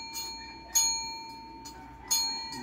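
An Aspin dog taps a small bell, producing a handful of separate clear metallic dings spaced unevenly, each decaying with a lingering ring, quiet and nearby.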